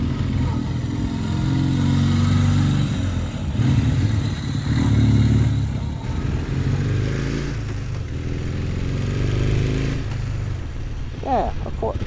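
Kawasaki Z440 LTD classic motorcycle engine drones steadily while riding, a continuous low rumble mixed with wind noise, and a rider talks over it.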